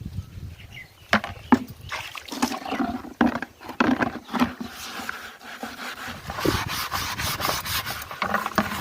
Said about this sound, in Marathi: मी घासताना किती निघत आहे